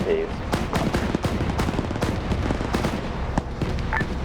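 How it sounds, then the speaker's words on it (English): Tank and infantry fighting vehicle battle in a US versus Russia armor game, with rapid repeated gunfire bursts and booming shots crowding together, loud and continuous, mixed with radio-style voice chatter. "I love watching the tanks also fire up at them."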